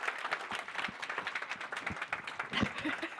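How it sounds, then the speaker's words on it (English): A moderate, uneven round of clapping comes from an audience at an art-and-technology panel event. Some individual claps stand out sharply as it continues for a few seconds. "I think you got a little more applause than I did."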